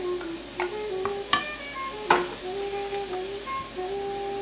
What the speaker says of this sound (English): about 5 chopped garlic cloves. Saute them up good.